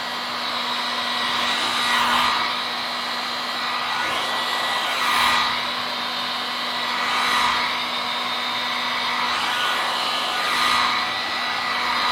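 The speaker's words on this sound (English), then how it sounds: "you can use a blow dryer at this point." A steady, loud whoosh of a blow dryer drying alcohol ink, running continuously, with a rhythmic swell in intensity every couple of seconds as it sweeps back and forth.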